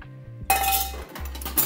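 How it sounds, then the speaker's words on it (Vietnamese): Ice clinks against glass as a gin cocktail with bianco and apricot is stirred, with a short run of close, bright chinks and rattles and no voices. "Rồi khuấy cho nó lạnh cái món cocktail của mình lên nha."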